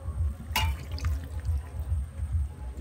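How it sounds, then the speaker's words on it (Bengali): Water pours steadily into a cooking pot of simmering potatoes for a banana flower curry, a soft, close, continuous trickle with a low rhythmic bubbling beneath and no talking. "আমি এখানে আর একটু জল দিচ্ছি"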